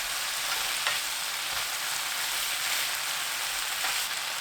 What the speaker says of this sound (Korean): 중불로 바꾸고 가운데 양념, 고추 넣어 골고루 섞이도록 1분 볶으시면 돼요